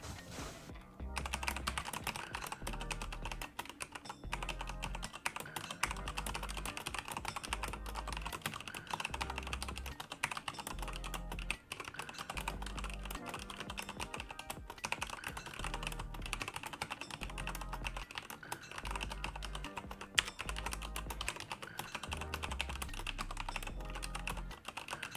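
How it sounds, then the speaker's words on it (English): Steady, rapid typing on a computer keyboard during a typing test, with dense, even key clatter that runs close and continuous throughout, with no voices. "let's do a quick typing test on how I type now"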